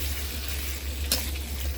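Spicy frog curry stir-fries in a pan, giving a steady, dense sizzle with a brief scrape of stirring partway through and a low background hum.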